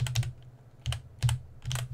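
Typing on a computer keyboard while searching for an item in the Foundry VTT tabletop software, with three quick bursts of close, crisp keystrokes separated by short pauses.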